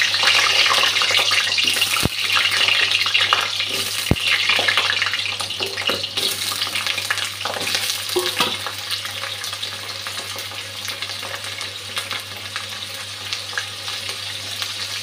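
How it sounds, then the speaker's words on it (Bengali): Potato pieces frying in hot oil for a Bengali egg curry, a steady dense crackling sizzle that runs throughout without pause, close and moderately loud, with no talk. "আলুটা ভেজে নিচ্ছি।"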